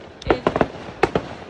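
Fireworks for Canada Day popping and crackling in quick succession, several sharp bangs in two clusters, fairly close and loud over a quiet background.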